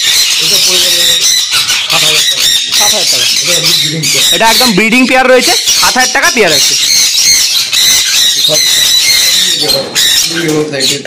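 Pet birds such as conures, cockatiels and lovebirds at a bird farm in Kolkata squawk and screech loudly in harsh bursts while someone talks over them close by.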